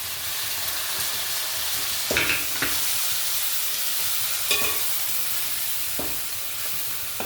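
Tomatoes frying in a pan with ginger and garlic, a loud continuous sizzle close up, broken by a few soft clacks of a spoon stirring, no talking.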